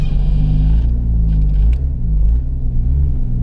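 Nissan 300ZX fitted with a 2JZ engine creeping out of a driveway, its deep low rumble loud and close as it idles and revs gently, with a brief higher whine fading early and no voices.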